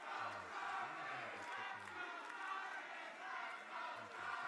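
A divided wrestling crowd inside the United Irish Culture Center fills the hall with loud, sustained chanting and shouting, a dense roar of many voices swelling and dipping in rhythmic waves throughout.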